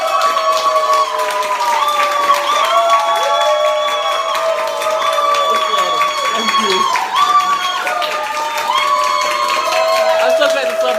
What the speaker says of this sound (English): Everyone give yourself a huge round of applause.